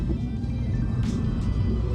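Low, muted rumble from a Mini F56 John Cooper Works with a Pro exhaust whose valve is shut, idling or cruising quietly as a steady car drone.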